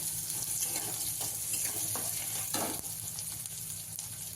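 Chopped onion fries in a pan in an ongoing, hissing sizzle, with soft stirring strokes now and then.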